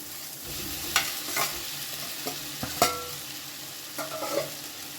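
Boiled potatoes sizzle and fry with spices in a hot pan while a utensil scrapes and stirs them, with several sharp clacks against the pan.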